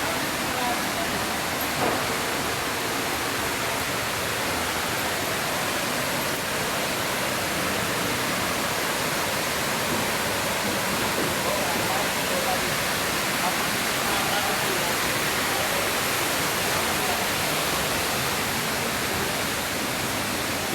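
Water pours steadily at Hinulugang Taktak waterfall, a dense, unbroken hissing roar that stays loud and constant throughout.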